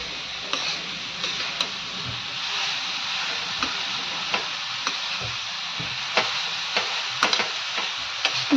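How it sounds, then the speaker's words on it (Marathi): Sweet modak filling being sautéed and stirred in a pan, with a steady soft sizzle and regular spatula scrapes and taps repeating every second or so. "आता हे व्यवस्थित एकसारखं सारा परतून घ्यायचं एकसारखं होईपर्यंत छान असं मिक्स करूयात"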